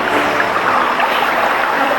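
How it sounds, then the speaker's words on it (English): Stream flowing past in Coorg, a steady broadband rush and gurgle of moving water, close and continuous with no voices. "It's making this wonderful, beautiful gurgling sound as it flows by."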